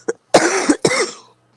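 A person clears their throat: a short faint rasp, then two harsh, forceful bursts close to the microphone, followed by silence.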